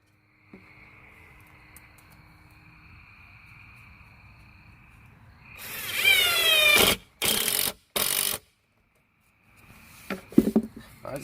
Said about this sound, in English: so now we're ready to shoot some screws into that.